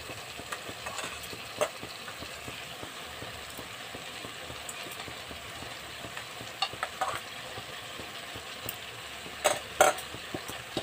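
Bitter gourd, salted and squeezed, fries with prawns in a pan, giving a steady low crackle with faint scraping stirs and a few sharper clinks near the end, with no voices.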